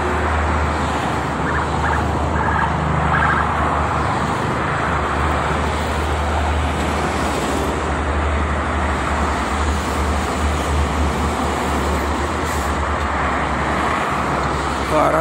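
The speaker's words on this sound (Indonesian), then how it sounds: "Banyak truk ya untuk pagi ini nih." Morning traffic with many trucks on the Jakarta-Cikampek toll road: a dense, continuous roar of engines and tyres passing close by, with heavy vehicles rumbling throughout and no pauses.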